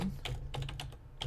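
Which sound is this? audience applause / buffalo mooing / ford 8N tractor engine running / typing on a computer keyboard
typing on a computer keyboard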